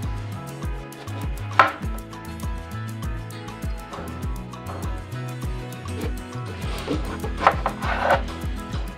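Knife chopping through eggplant pieces on a cutting board for a fried eggplant and hilsa dish, a close, steady series of firm thuds with a few sharper cuts.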